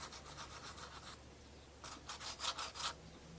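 A small heart-shaped sander with a sanding disc rubs over a painted surface, giving two quiet bursts of quick, scratchy strokes separated by a short pause.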